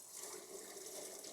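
Water rushes steadily into a Manitowoc ice machine during a cleaning cycle, a soft hissing fill that stays even and continuous throughout, fairly quiet with no talking.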